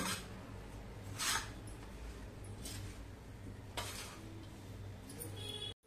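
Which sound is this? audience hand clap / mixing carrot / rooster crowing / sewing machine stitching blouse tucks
mixing carrot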